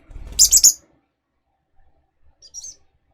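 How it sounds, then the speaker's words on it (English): A pet bird chirps close by in a quick burst of bright, high tweets, then goes quiet before one shorter, fainter chirp follows. "Dry yourself off, bird."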